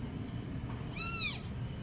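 A single cat meows once, a short rising-falling cry heard moderately close over a steady background hum, with no voices.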